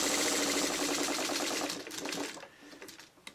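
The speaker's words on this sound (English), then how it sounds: "Okay, so I'm just gonna stitch this one through." A sewing machine stitches a quilt block seam in a fast, even run of rapid mechanical clatter, stopping partway through and followed by a few scattered handling sounds.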